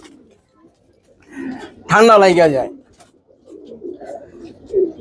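A pigeon coos once, loud and close, between stretches of someone talking; young pigeons are kept in a separate cage nearby.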